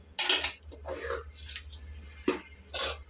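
Puffed rice churumuri with spice powder tossed and mixed in a bowl, giving bursts of dry rustling and clinking against the bowl, close and intermittent, with a steady low hum underneath.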